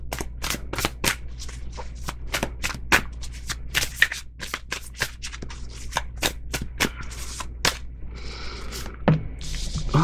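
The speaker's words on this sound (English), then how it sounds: "Let me just throw a couple more cards on this for you guys." Tarot cards being shuffled by hand, a close, busy sequence of sharp riffling snaps and flicks in an uneven rhythm, with a brief rustling pause near the end and no speech.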